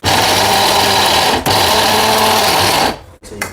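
A kitchen mixer grinder runs again at full speed on a spice powder, a steady loud whine with a brief dip partway through, then winds down and stops with a couple of clicks.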